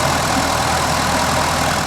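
A car engine, with water added to its cooling system, idles steadily with a loud, even drone and no voices.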